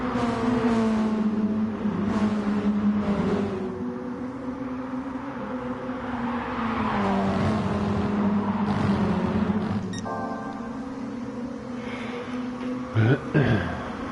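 A Toyota S-FR race car in GT Sport at Kyoto Miyabi drones along with a steady, slightly shifting engine tone as it slides through corners, carrying on under continuous commentary with a brief sharp burst near the end.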